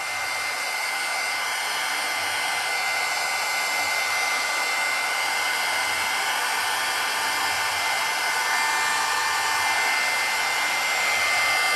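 Heat tool blowing a steady, loud, continuous whoosh while drying powdered pigment on an embossed craft tag, unbroken for the whole stretch with no talking.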